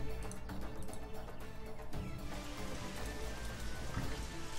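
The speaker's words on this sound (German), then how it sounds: "Es regnet jetzt gerade" Steady rain pours down in the Wildlife Park 3 video game, a dense continuous patter of drops with no pauses, even and fairly loud throughout.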